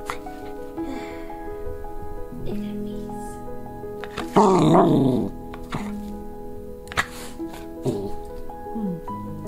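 A puppy gives a short growl amid quiet background sounds, with a few brief whines or vocal noises around it.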